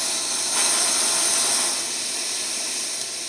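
Coleman Exponent 550b single-burner camp stove flame hissing steadily and close, a broad even roar that swells slightly early on and then settles, with no talking.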